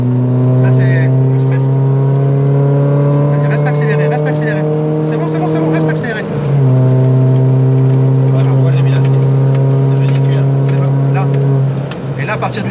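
A race car accelerating hard around a track, heard from inside the cockpit as a loud, steady engine drone that briefly dips mid-clip before resuming at full throttle, with voices talking over it.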